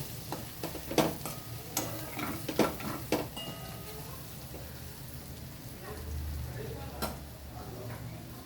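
Egg masala fry sizzles steadily in a pan with scattered clinks and scrapes of a spoon stirring against the metal, close and continuous.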